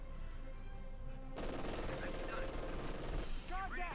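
Sustained MG42 machine gun fire in the real-time strategy game Company of Heroes 2, a dense continuous rattle that starts abruptly after a quieter opening and runs on under game effects, with a few whistling tones near the end.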